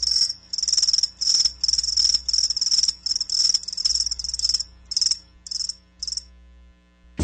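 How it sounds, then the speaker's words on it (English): Crickets chirp in steady high-pitched pulsing bursts, loud and close, set in a hockey broadcast ad break, stopping near the end with a sharp click. "That's right, crickets."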